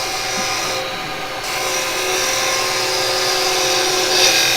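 Woodturning lathe with a tool cutting a thin wooden wig stand, giving a steady loud whirring drone with a rising hiss toward the end, continuous throughout and without voices.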